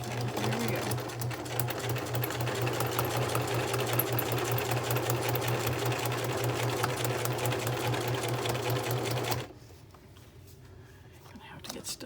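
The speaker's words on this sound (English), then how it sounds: "I'm going to attempt to sew this on camera." A sewing machine stitches steadily on a smash book craft project, a close, fast, even mechanical chatter with a low hum, then it stops abruptly near the end and leaves quieter room noise and faint handling.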